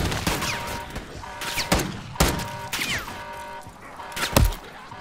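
Repeated shots from a .50 caliber pistol in Call of Duty Zombies: loud, sharp single reports in an uneven rhythm, about seven over a few seconds, each ringing briefly before the next.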